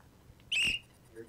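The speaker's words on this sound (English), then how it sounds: "Now I blow my whistle." A single short, sharp, piercing blast of a whistle, close and loud, lasting under a second against a quiet background.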